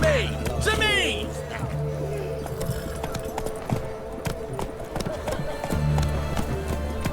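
Roach, a horse in The Witcher 3, heard as clip-clopping hooves and a whinny in a game scene, with game voices talking over the hoofbeats.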